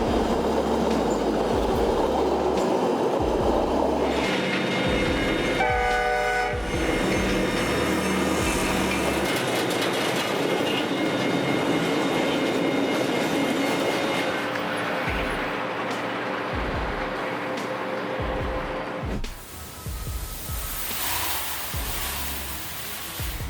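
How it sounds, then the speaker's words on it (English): BNSF 717, a westbound freight train on the Peavine subdivision hauling huge wind turbine blades, rolls past loud and close with rumbling wheels, clickety-clack, a brief horn-like tone and some wheel squeal. "a westbound train on the Peavine subdivision hauls enormous wind turbine blades, led by BNSF 717"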